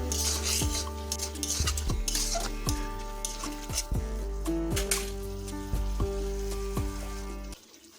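Pointed gourd and spices for patal posto fry in a wok with a steady close sizzle, broken by repeated scraping stirs of a spatula against the metal pan, until the frying briefly drops away near the end.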